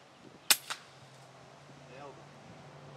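A single sharp report from an FX Impact air rifle during a hunt, followed by a softer echo or impact, with faint ambient hum and a quiet bird-like sweep afterward.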